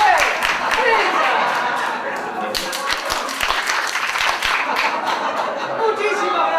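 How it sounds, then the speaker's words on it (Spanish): A studio audience at a live radio show claps in a lively, uneven burst of distinct hand claps, mixed with laughter, chatter and voices talking throughout. "¡Aplausos! ¡Muy bien!"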